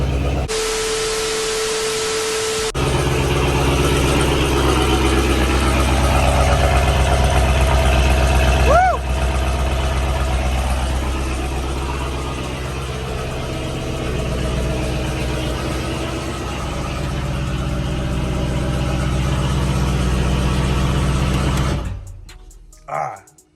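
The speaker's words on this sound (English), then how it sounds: "this thing is freaking insanely loud on a cold start" Loud car engine idling just after a cold start, a steady low rumble running throughout with a voice talking over it before it cuts off near the end.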